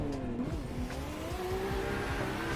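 A drifting S14 in the Assetto Corsa racing game, fitted with a 5-speed sequential gearbox, revs hard in third gear with clutch slip, its engine note droning loud and steady over squealing tyres.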